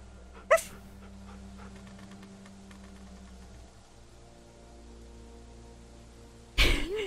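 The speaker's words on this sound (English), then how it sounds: "We found a doggy!" A dog whimpers and yips in The Walking Dead Telltale video game, with faint soft whines over a steady low game ambience and a sharp burst near the end, with no talking.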